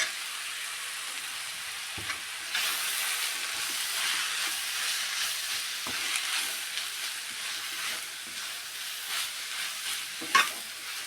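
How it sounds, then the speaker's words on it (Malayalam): Moringa leaves being stirred into a frying curry: a steady broadband sizzle with spoon scrapes at irregular moments, close and continuous, no voices. "കഴുകി വൃത്തിയാക്കി വെച്ച മുരിഞ്ഞര ഇടാം നന്നായിട്ട് മിക്സാക്കി കൊടുക്കാം"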